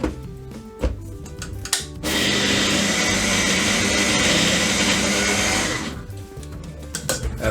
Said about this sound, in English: So I'm going to blend this up first.